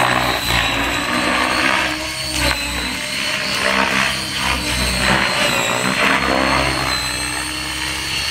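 A Fusion 50 RC helicopter with a flybarless BeastX controller runs at 85% throttle, giving a loud, steady rotor and engine whine with a buzzy, droning tone throughout and no talk.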